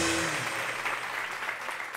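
A live theater audience applauds steadily for Jaime Garzón, a dense wash of clapping filling the whole moment at moderate volume.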